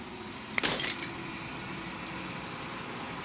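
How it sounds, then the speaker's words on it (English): Glass shattering in the video game Slay the Princess, one sharp crash with a short spray of tinkling fragments that dies away quickly, over a quiet steady background. "As the final fragment of the glass shatters"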